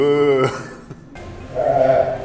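A human voice imitates an angry, thirsty sheep with a loud, nasal bleat that then trails into a higher, quieter wavering cry.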